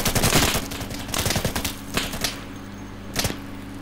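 Rapid automatic gunfire in the tactical shooter Insurgency, loud dense bursts crackling through the first two and a half seconds, then tapering into a few scattered shots and one last sharp burst near the end.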